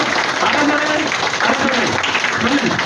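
An audience at a health talk clapping hands, a brief dense burst of applause mixed with crowd voices, loud and close throughout.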